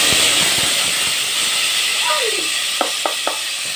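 Tomato puree hits a hot pan for a Swahili biryani, giving a loud, steady hiss and sizzle that runs throughout, with a few light clicks of utensils near the end.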